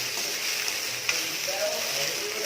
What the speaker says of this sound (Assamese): পাচলিখিনি ভালদৰে মিহলি নোহোৱালৈ ভাতখিনি 4-5 মিনিটলৈ ভালদৰে লৰাই থকা হ'ল।